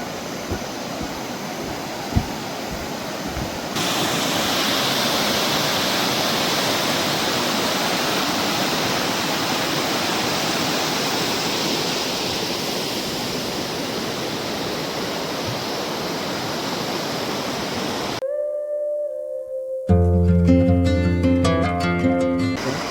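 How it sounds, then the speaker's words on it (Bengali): The Kameng River in Arunachal Pradesh rushes below an old wooden hanging bridge in the rain as a loud, steady roar of water. It suddenly cuts off near the end, and brief tonal music follows. "নিচ দিয়ে বয়ে গেছে সৎসেনী কামেং নদী"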